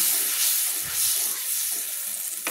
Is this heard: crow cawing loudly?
no